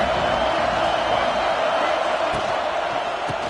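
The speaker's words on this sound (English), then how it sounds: "This crowd ready to make its presence known." Stadium crowd at a college football game between Utah and UCLA, a dense, steady roar of cheering throughout, with faint commentary under it.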